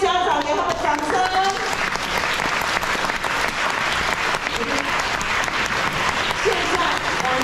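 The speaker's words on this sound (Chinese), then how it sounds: "请各位家长给他们掌声" Parents in a school auditorium give sustained, dense applause for students at the end of a school arts showcase, loud and even for several seconds.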